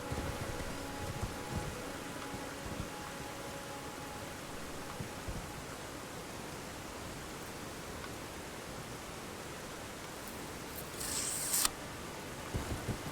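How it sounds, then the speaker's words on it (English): Steady rain falls in the video game Elden Ring, a soft continuous hiss that stays even throughout, with a brief crisp rustle near the end. "Rain."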